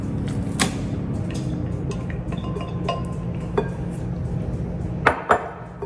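Grated zucchini stirred into a cheesy bread batter in a bowl, a steady soft mixing rumble dotted with light clinks of a utensil against the bowl, with no talking.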